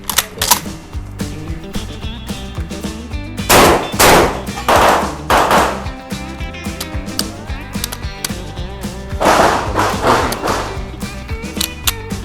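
A Saricam shotgun firing, several loud sharp blasts with dense mechanical clatter between them, close and echoing, and no voices heard.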